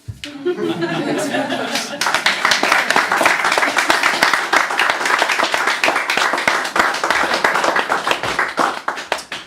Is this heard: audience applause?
yes